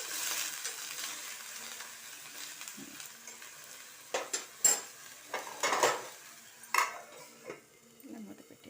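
A lid is set on a cooking pot after water has been added, with a quiet simmer first. Then comes a cluster of close, sharp metallic clanks and clinks of lid and pot.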